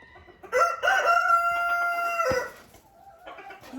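A rooster crows once on a farm, loud and close, a long drawn-out call that ends abruptly, followed by a short softer cluck.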